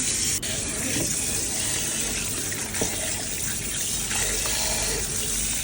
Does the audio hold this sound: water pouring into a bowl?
yes